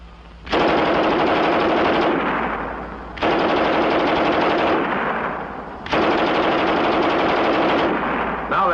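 A German WWII MG34 machine gun fires three long sustained bursts, each lasting about two seconds, with short pauses between them. The fire is loud and close, and no one speaks.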